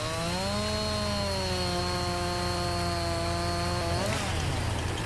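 Chainsaw in Farming Simulator 19 cutting a tree during a logging job, a loud steady engine whine that holds, drops slightly in pitch under load, then shifts near the end.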